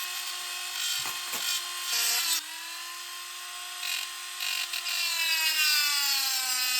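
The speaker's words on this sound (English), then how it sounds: "Finally, I tried using a Dremel to go deeper." Continuous high-pitched whine of a Dremel rotary tool grinding into stainless steel, with the pitch dipping briefly as it bites, then holding steady.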